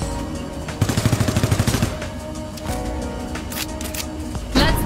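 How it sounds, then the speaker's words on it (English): Auto pistol fire in the video game Guardians of Orion: a rapid burst of a dozen or so clipped shots in quick rhythm, followed by further game blasts and impacts over steady background game sound. "Got my auto pistol out. Look how cool this pistol is."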